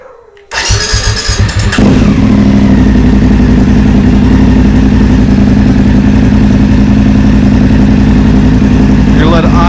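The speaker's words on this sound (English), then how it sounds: "Now you'll start your bike up in neutral." A BMW F750GS motorcycle in neutral cranks over and fires up, then settles into a loud, steady idle that runs on evenly at close range.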